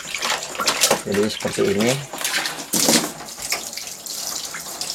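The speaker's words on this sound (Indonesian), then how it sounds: "untuk bagian yang berisi cat, teman-teman siram aja dengan menggunakan air mengalir." Running tap water splashes steadily while paint is rinsed off a screen-printing screen, the flow loud and close as a person speaks over it.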